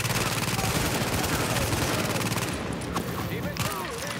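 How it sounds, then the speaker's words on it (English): Dense, continuous gunfire in Tom Clancy's The Division, with rapid volleys and machine-gun bursts that stay loud and close throughout, and a few sharper single shots toward the end. "Are they shooting me from down below?"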